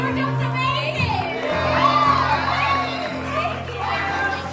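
A crowd cheers, whoops and yeehaws at a Disney Fort Wilderness cabins opening celebration, a steady loud roar of shouting voices with children's cries, over a low hum.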